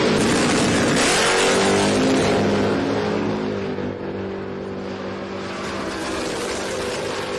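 Two drag racing cars, a Plymouth Duster and a Ford Mustang, roar loudly down the strip at full throttle, a dense sustained engine blare with a rising pitch sweep early on that settles into a steady howl.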